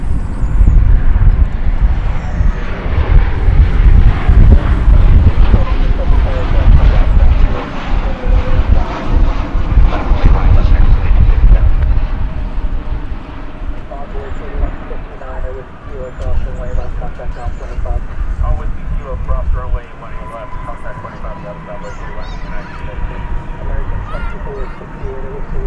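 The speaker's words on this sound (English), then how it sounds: "We have a United 737-900 arriving from San Francisco." A United Boeing 737-900 arriving at DFW Airport from San Francisco as flight 1609, its engine roar loud and near at first, then easing to a lower, rumbling wash while a voice talks over it.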